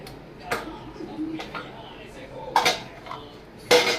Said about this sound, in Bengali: সিঙে এত বাসন পড়েছে, এত বোতল পড়ে আছে, সব দুনিয়া ভরের কাজ পড়ে আছে। চলো ওগুলো ধুয়ে নিই।